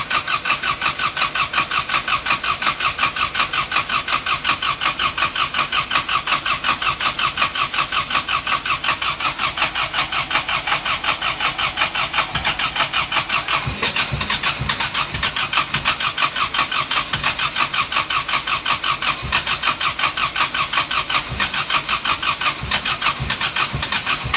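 A Mopar car engine cranks with a rapid, steady, loud starter chug for about twenty seconds before catching and firing into a rough running engine, heard close with no talking.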